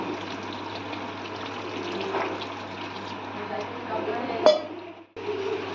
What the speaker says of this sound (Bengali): এবার আমরা এতে উষ্ণ গরম জল ঢেলে দেবো।